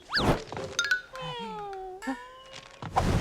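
A cat meows close by, a high rising-and-falling cry, followed by other short tonal sounds and a brief clink.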